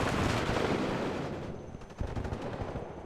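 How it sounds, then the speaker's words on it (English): British rifles fire in a war video game battle, a dense close rattle of overlapping gunshots and bursts, loud at first and then thinning into scattered cracks over a continuing din. "These are my nice British rifles firing away"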